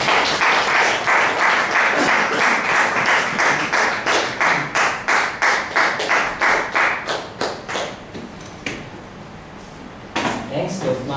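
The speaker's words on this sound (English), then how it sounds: "Ladies and gentlemen, please put your hands together and welcome Mr." Audience applause at a Toastmasters club meeting welcoming a speaker onto the stage: dense, steady clapping from a room full of people that thins and fades out near the end, then a brief renewed burst.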